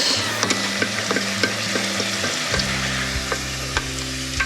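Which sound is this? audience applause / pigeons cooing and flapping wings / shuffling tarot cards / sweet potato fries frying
sweet potato fries frying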